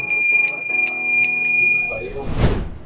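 A bright notification bell chimes several times in quick succession, ringing tones that then fade into a brief soft whoosh.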